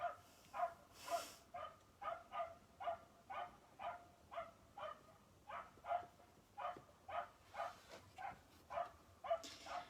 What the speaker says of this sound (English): Those are just dogs.